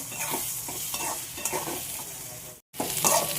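Eggs and onion stirred and fried into bhujia in a home kitchen pan, with a constant close sizzle broken by scraping strokes of the spatula and one very short gap of silence.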